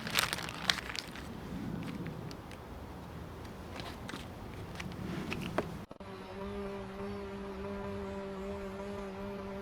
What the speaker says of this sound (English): There are a lot of insects right now